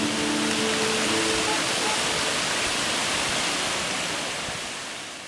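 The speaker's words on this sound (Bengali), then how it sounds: "সেতু থেকে নিয়ন্ত্রিতভাবে জল বের হওয়ার ব্যবস্থা" Water pours steadily through the sluice of Khandarani Lake's dam at Belpahar, a constant broadband rush like a waterfall, loud and close with no pauses, easing off slightly toward the end. Nobody speaks over it.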